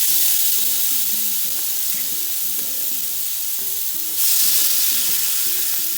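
Chicken kebabs brushed all over with olive oil sizzle steadily in a pan over medium heat, a continuous bright frying hiss with no talking.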